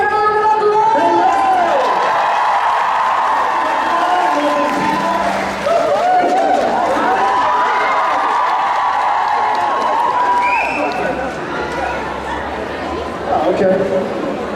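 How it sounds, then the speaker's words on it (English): A convention audience at a Vampire Diaries panel with one of the show's actors claps and cheers in a dense, steady roar of crowd noise, with voices and shouts mixed through it from start to finish. "Come on, guys, I need a round of applause."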